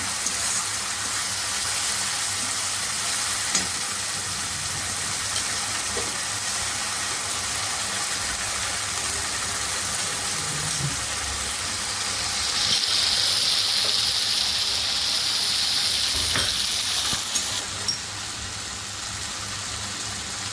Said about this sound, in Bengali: নাড়াচাড়া করতে হবে কাজু যেন ধরে না যায়